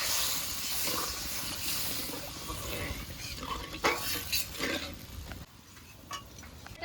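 Fish curry simmering in water in a pan, giving a soft steady hiss and bubbling with occasional light clinks of a utensil against the pan, close by and without talk.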